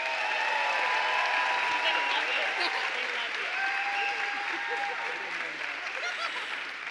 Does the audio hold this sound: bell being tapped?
no